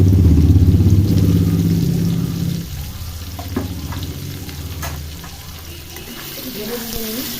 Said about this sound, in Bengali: ভেজে ভেজে নিই